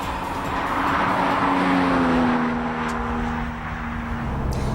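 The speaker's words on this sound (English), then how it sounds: "The M12 is powered by Ford's 24-valve Duratec V6" Noble M12 GTO sports car with a twin-turbo Ford 24-valve Duratec V6 drives by, its engine note rising and swelling to a peak and then easing away in a smooth pass.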